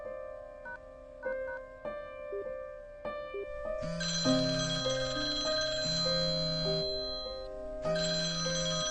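A phone ringtone plays a tinkling melodic tune of repeated electronic notes, starting softly and building into a fuller, brighter chime pattern that loops on without any voices.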